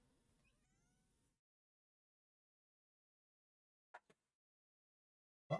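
A cat on a kitty cam gives a couple of brief meows after a long silence, then one louder, longer meow at the end, preceded by a short stretch of faint background noise.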